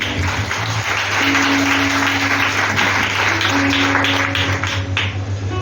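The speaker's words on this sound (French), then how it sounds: "Acclamons Jésus" A church congregation applauding and cheering during a sermon, loud sustained clapping from a large crowd with a steady tone beneath, continuous for several seconds without speech.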